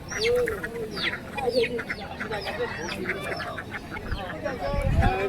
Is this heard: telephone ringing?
no